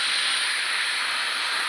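Steady, loud hiss of escaping steam, broadband and unbroken for the whole short stretch, with no voices over it.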